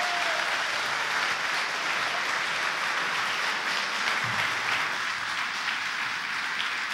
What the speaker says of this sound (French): Applaudissons tous Monsieur Robert Rue